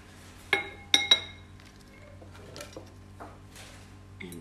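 A lid set onto a Scentsy wax warmer gives a few sharp ceramic clinks close by, two bright knocks in quick succession followed by softer small taps and rattles.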